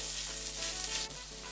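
Curry leaves and tomato hitting hot oil in a pan, a steady close hiss of frying that dips briefly near the end, no voices.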